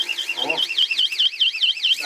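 A handheld personal alarm, a so-called screamer, shrieks with a rapid warbling siren that rises and falls several times a second, loud and close, while a voice briefly talks over it partway through.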